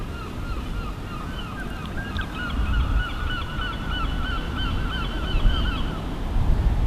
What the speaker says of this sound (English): you've got a nice chorus of seagull calling, don't you?